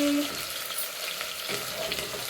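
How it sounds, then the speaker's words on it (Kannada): Sliced onions fry in hot oil for sambar, giving a steady, loud, close sizzle with faint stirring scrapes throughout and no talking. "ಆನಿಯನ್ನು ಗೋಲ್ಡನ್ ಬ್ರೌನ್ ಕಲರ್ ಆಗೋವರೆಗೂ ಫ್ರೈ ಮಾಡ್ಕೊಬೇಕು"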